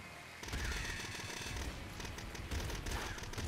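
Explosions in the Nuclear Throne video game make a rapid, crackling burst of blasts that runs continuously for a few seconds, fairly faint, with no talking.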